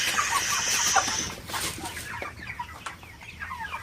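Broiler chickens about nine days old cluck together in a farm shed, a dense chorus of close, overlapping calls that is loudest in the first second and then settles into scattered clucks.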